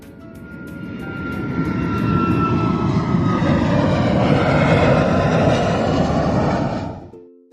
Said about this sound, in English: I'm Penny the Passenger Plane. I carry people safely across the skies.